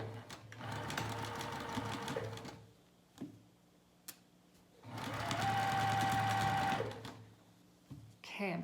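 A sewing machine stitches across the top of pajama pants in two steady, whirring runs of about two seconds each, with quiet pauses between. Someone talks nearby.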